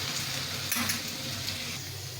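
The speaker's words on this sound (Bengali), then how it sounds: "একদম আলু ভাজার মতো করে আলুটা ভেজেছি।" Potatoes frying in hot oil in a home kitchen give off a soft, continuous sizzle with light crackling and a brief stirring scrape, heard close and fairly quiet with no one speaking.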